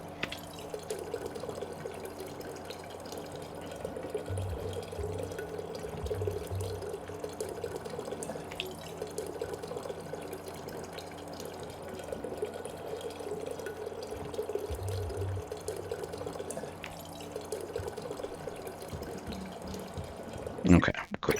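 Leaky water from Prey drips and trickles steadily in a video game, a continuous wet patter with low background hum throughout.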